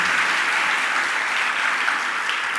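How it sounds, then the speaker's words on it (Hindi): An audience applauds at a Hindi sermon, a dense, sustained wash of clapping from a large crowd, loud and even throughout. "मान लो, बजा लो अपने लिए ताली, जम के तो बजाओ"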